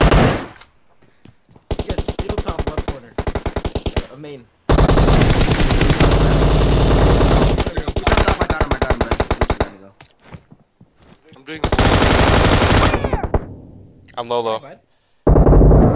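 Video game gunfire in a team deathmatch, lights-out mode: loud rapid automatic bursts, long sustained sprays broken by short gaps and single shots, with players talking over the shooting.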